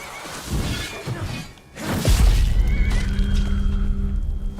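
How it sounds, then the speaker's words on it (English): A horse whinnies loudly while a wolf attacks it in the video game Skyrim, followed by a heavy crashing thud and a lingering low rumble of the fight, close and with no voices. "my horse is getting attacked by a wolf."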